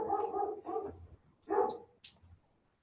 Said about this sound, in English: we have a dog in the background.